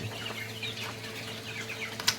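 White Leghorn and Rhode Island cross chickens kept beside an aquaponics pond cluck softly and intermittently at close range, with a sharper squawk near the end.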